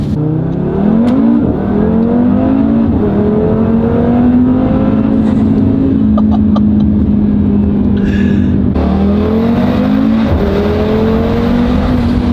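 Audi RS3 five-cylinder engine fitted with a 034Motorsport 4-inch carbon intake, heard from inside the car while driving, a loud steady drone that rises and falls with revs, with a shift and a burst of acceleration near the end.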